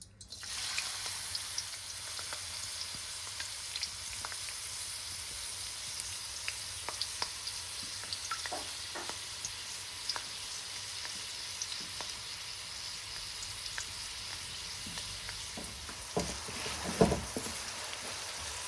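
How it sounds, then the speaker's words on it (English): Two medium onions sizzle in hot vegetable oil in a karai, a steady quiet frying hiss with scattered small pops and crackles, a brief louder stir near the end. "So we need to caramelize these onions, soften these up before we add the next ingredient"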